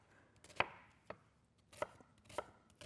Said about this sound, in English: Just want to dice this up into a, rough dice.